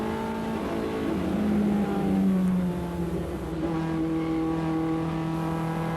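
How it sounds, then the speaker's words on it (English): Sierra race cars accelerating up a straight in the 1988 Production Car Championship, racing against BMWs: a loud, steady engine drone whose pitch climbs gradually, heard alone without talk. "One of the Sierras accelerating away up the straight now, leaving the BMWs for dead"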